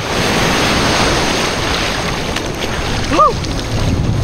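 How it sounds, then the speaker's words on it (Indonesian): Ocean waves surge and wash onto an island beach in a steady loud roar, with wind buffeting the microphone and a short voice-like sound near the end. "Ombaknya bikin basah kuyup, tapi ya dinikmati aja."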